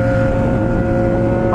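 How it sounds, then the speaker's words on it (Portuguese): A loud motorcycle exhaust on a street roars steadily and close by, with a sustained droning engine tone throughout. "Olha o escapamento desse cara."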